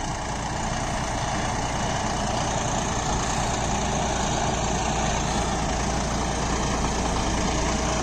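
A John Deere tractor engine runs at a steady, loud drone, continuous low rumble with no change in pace, heard alone without voices.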